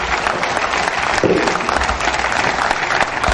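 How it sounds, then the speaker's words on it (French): Audience applause follows a speech in a hall, a loud, dense burst of many hands clapping continuously through the short stretch. "Please let's keep clapping for him."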